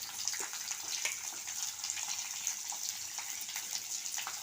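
A small onion being sautéed over medium heat in a pan with roasted lentils for a spicy red chutney gives a steady, even hiss of frying with faint crackles throughout, and nobody speaks.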